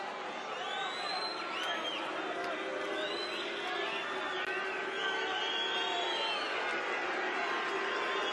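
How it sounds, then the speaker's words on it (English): Darts crowd at the World Series of Darts Finals cheering, shouting and whooping in a dense, continuous roar, with a commentator's voice talking over it. "The crowd are having their say."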